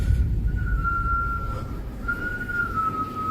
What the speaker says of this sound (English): whistling can be heard in the living room